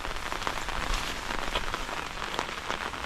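Rain falling in a forest during a storm, a dense steady hiss of drops pattering on leaves and surfaces, even and unbroken throughout with no voices.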